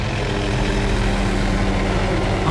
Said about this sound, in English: they've learnt to avoid the helicopter